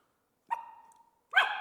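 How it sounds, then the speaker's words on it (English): A young puppy gives two sharp, close barks separated by a short pause, the first trailing into a thin whine-like tail, with silence around them. "I was able to get 2 barks"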